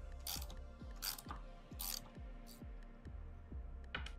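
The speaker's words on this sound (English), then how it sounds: "With a 9/16 socket, remove and discard the nut." Ratchet wrench with a 9/16 socket backing a nut off the lower housing of a Kimray low-pressure back pressure regulator held in a vise, giving a steady run of about nine clicks with scrapes of metal between them.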